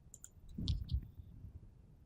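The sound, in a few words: mouse click on the OK button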